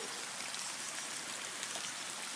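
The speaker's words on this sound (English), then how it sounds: "This is all water that used to come into our house, all going over the top of the slope there." Floodwater flows steadily over the top of a slope beside a house, a continuous close rushing and trickling wash with no talking.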